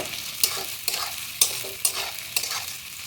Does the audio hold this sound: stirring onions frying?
yes